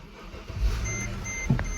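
A Mercedes GL450 W164 SUV with an Airmatic suspension fault starts up, its engine settling into a steady low running hum with a brief knock and faint electronic chimes.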